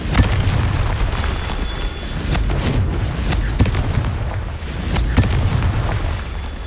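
Repeated Confringo spell blasts from Hogwarts Legacy: several sharp, booming bursts at irregular intervals over a steady low rumble of game ambience, loud and close.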